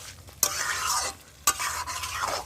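Chicken stirred and fried in a pan gives a continuous close sizzle, with two sharp scrapes of a utensil against the pan, each followed by swirling frying hiss.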